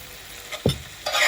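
Lamb keema sizzles in a pan as fresh coriander is stirred through, a short burst of frying hiss broken by a sharp scrape of the spoon and a rising sizzle at the end.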